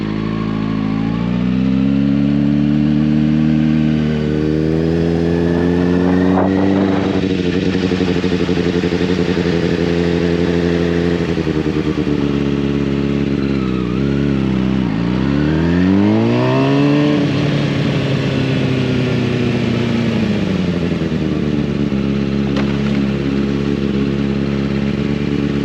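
A motorcycle engine riding steadily with a strong, buzzy drone that rises and falls with throttle changes, including a sharp dip and climb as it shifts, loud and close throughout.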